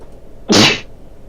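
A single short, sharp sneeze, close and loud, standing alone against quiet room tone.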